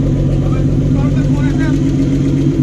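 A Mitsubishi 6A12 engine running with a misfire, loud and close, with a rough uneven idle and a heavy low rumble.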